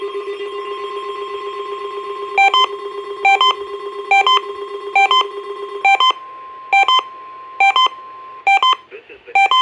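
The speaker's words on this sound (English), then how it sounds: "The tones you just heard were a test of this specific area message encoding into an alert systems." Emergency Alert System Specific Area Message Encoding test tones on NOAA weather radio from the National Weather Service office in State College, Pennsylvania: a steady tone, then repeated bursts of sharp digital data chirps in a regular rhythm, clear and loud.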